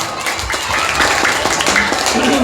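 Audience applause at a religious quiz competition during a Ramadan event, loud and fairly close, with distinct clustered claps, crowd murmur and faint voices mixed in.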